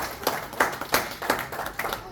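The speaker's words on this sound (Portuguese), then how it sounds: "Aplauda o Senhor pela vida dele." Church congregation at a Brazilian evangelical service clapping, a short burst of roughly rhythmic, distinct claps about three per second, fairly close and moderately loud.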